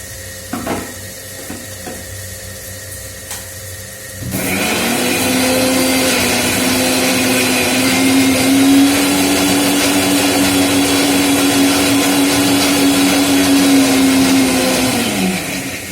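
Spices ground with water in an electric mixer grinder: after a few light clinks, the motor kicks on and whirs loudly and steadily for about eleven seconds, then winds down.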